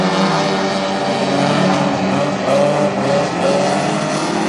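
Hornet class race cars circle Granite City Speedway in a heat race, their engines a loud continuous roar with rising and falling pitch as the pack laps the oval, steady throughout with no voices.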